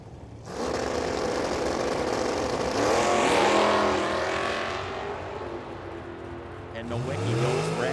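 A Mustang drag race car roars down the strip at a drag race, a loud sustained engine howl that swells and fades, with a second engine rising in pitch near the end.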